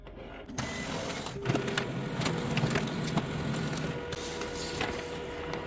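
An HP LaserJet Pro MFP 4301 printer runs a two-sided copy. It gives off a continuous mechanical whir with rollers feeding paper, light clicks and clunks, and faint whines. The sound is moderately quiet and close, and no one speaks.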